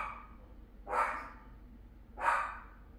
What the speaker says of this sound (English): I think Amazon just showed up, so my dogs are going crazy.